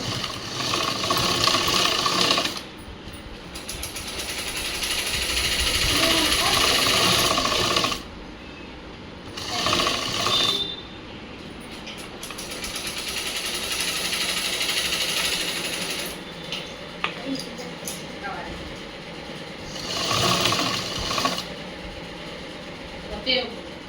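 A sewing machine stitching blouse fabric runs in bursts of steady whirring, stopping and restarting several times, while someone talks throughout.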